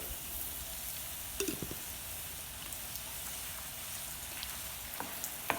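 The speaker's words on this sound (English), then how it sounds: "Alfredo sauce. We're gonna dump that whole thing in there." Alfredo sauce poured into a hot pan on a STOK grill gives a soft, continuous sizzle with a few faint pops and clinks of stirring.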